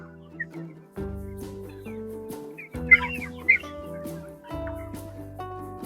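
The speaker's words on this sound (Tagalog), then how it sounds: "Tignan yung aking mga manok sa free range." Free-range breeder chickens on a Philippine farm cluck and call in repeated bursts, with several birds close by and a few brighter calls rising over a steady low background hum.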